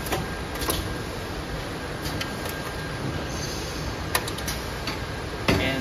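An automatic cable coiling and strapping machine runs with a steady mechanical whir and hum, broken by sharp clicks and ticks at irregular intervals. No voices are heard.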